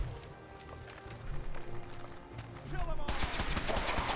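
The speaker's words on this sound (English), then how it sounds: "Danse, you're shooting towards me, which is not very nice" Gunfire from the companion Danse in Fallout 4, rapid shots that grow louder and denser toward the end, with a voice talking over the shooting.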